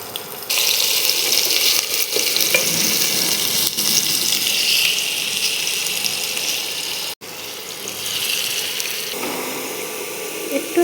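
Potatoes and carrots sizzle in hot oil in a pan, a steady bright hiss that runs almost continuously, with a brief dip partway through and no talk over it.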